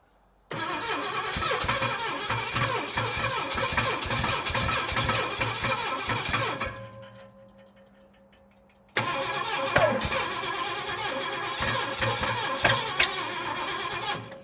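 A 1929 Ford Roadster barn find cranks and fires for the first time in 20 years, running roughly and loudly up close, cutting out briefly into a fading rumble, then restarting and running again.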